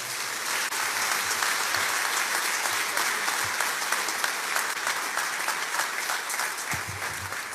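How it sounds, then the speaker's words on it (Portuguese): Sustained applause from a large crowd at a Christian college graduation ceremony, steady and loud throughout with no pauses. "dá um aplauso a Deus nessa noite"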